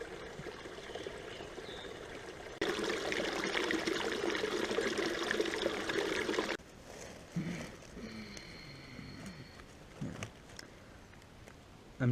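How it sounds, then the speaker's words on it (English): A small waterfall on a spring-fed mountain stream splashes steadily, swelling to a louder, nearer rush for a few seconds before dropping back to a softer trickle with occasional handling sounds. "Here's another waterfall."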